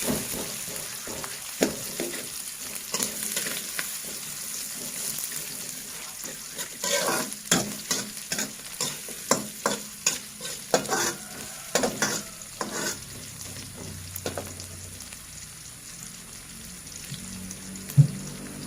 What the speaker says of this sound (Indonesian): Minyaknya sudah panas, kita masukkan. Kita tumis sebentar sampai kelihatan layu